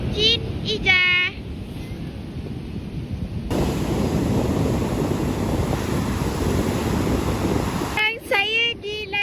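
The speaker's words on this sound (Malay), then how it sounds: "Tak sangka pula ombak tu sampai sini." Ocean waves wash strongly up onto a beach during a trip to Kelantan, a steady broad rush of surf filling the middle stretch, with wind buffeting the microphone and people talking before and after it.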